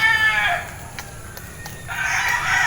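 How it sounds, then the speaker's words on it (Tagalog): Roosters crow loudly nearby, one call at the start and another near the end, with faint clucks in between. "Ang ingay ng mga manok. Tilaukan ng tilaukan."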